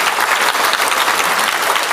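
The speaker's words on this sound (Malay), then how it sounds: "Kita berikan tepukan kepada Sinar Harian" Dense, loud audience applause fills the room at a public forum on extremism in Malaysia, a continuous wash of clapping with no voices over it.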